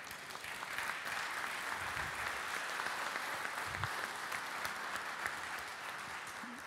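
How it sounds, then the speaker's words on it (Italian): An audience at an Italian forum event breaks into sustained, even applause, a dense crackle of many hands clapping that holds steady for several seconds with almost no voices. "Allora glielo rifacciamo con un altro applauso."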